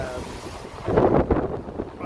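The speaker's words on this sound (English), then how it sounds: "It's also really fucking windy." Strong wind buffets the microphone in rough, roaring gusts that swell and surge, loud and close, with no clear talk.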